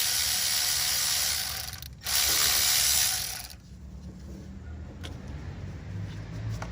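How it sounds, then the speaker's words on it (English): A 5/16 ratchet clicks rapidly while backing out valve cover bolts on a 2006 Chrysler Town & Country, in two bursts of close mechanical clatter. A quieter, rumbly workshop background follows. "I'm getting the first valve cover, getting the bolts out of it."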